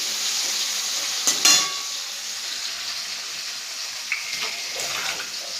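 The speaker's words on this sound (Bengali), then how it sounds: "কালনাগুলো ভাজা হবে একটুখানি" Pieces fry in a pan over a low flame with a soft, continuous sizzle and a couple of brief utensil clatters, all fairly quiet.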